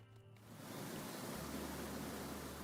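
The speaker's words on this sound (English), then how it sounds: "A waterfall." A waterfall in the video game Graveyard Keeper gives a steady, broadband rushing roar that swells in within the first half second and holds constant, moderately loud, with no talk.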